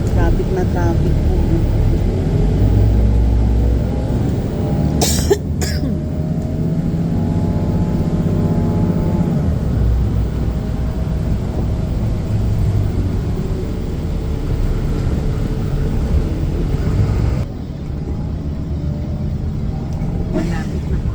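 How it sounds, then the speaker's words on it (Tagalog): Dense rush-hour freeway traffic makes a loud, continuous rumble of engines and tires that holds steady throughout, heard close by with a brief louder swell midway. "Daming car, diba? Traffic na traffic po."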